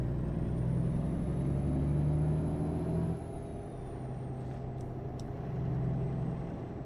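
A big truck with straight pipes drones steadily at low revs in American Truck Simulator, a mellow continuous rumble with a slight dip in level partway through, close and alone without talk.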